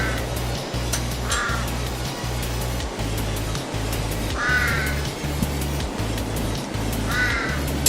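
A crow caws in short repeated series, rising above a steady low rumbling drone that runs throughout, with trains and wind nearby.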